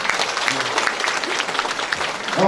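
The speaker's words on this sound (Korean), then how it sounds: "남영희 위원장님과 조택상 위원장님께 큰 박수 한번 부탁드리겠습니다" Audience applauding two committee chairs at a Democratic Party members' education event in Incheon, a steady dense clapping wash that swells slightly louder toward the end.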